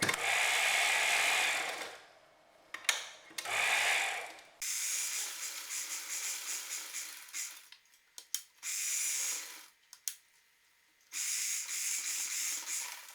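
A sewing machine stitches a girl's skirt and jacket, turning to sew a collar, in a series of faint mechanical bursts of varying length broken by pauses and brief taps.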